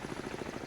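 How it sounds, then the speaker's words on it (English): Helicopter rotor in the submarine video game Cold Waters, a faint steady rhythmic thumping of blades repeating about every tenth of a second, heard alone at low level. "There's the helicopter."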